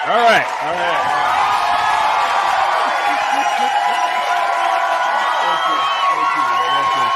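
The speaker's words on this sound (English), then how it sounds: "Extra applause. Extra applause. Why not?" A crowd claps and cheers steadily throughout, with whoops and shouts rising over dense, continuous applause.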